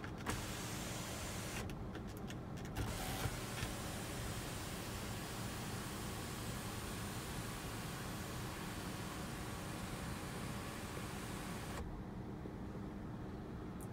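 The panoramic sunroof of a 2018 Jaguar F-Pace hums open with a steady electric motor drone and faint rushing for about ten seconds, then stops, leaving quiet cabin air.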